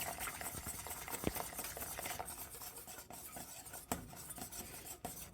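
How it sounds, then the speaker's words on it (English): Ingredients for a dough are stirred together in a bowl: quiet, uneven scraping and rubbing strokes with a few soft knocks, close up and low in level. "Add this to this. Mix it up."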